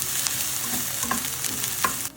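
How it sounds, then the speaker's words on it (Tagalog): Onion sautéing in hot oil for a first homemade Bolognese, a close, continuous crackling sizzle with intermittent stirring scrapes and light clicks. "Nung mainit na yung mantika, nilagay ko na rin itong sibuyas para sa paggisa."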